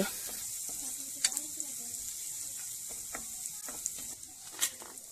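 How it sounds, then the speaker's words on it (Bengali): Flat beans with crushed garlic are stirred in mustard oil for a hotel-style bean bharta, giving a soft, steady sizzle broken by light spatula scrapes and a few sharp clicks, all close and fairly quiet. "আর এই ভর্তাটা কিন্তু অবশ্যই সর্ষের তেল দিয়েই করতে হবে আর এইগুলোকে নেড়ে ছেড়ে নিচ্ছি"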